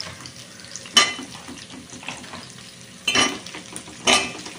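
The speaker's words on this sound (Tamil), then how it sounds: "இது இல்லாமல் நம்ம ஆனியனோட சேர்த்து வதக்கிக்கலாம்" Pieces of bottle gourd sautéed with onion, a low sizzle under three louder scraping strokes of a utensil in the pan, near and with no one speaking.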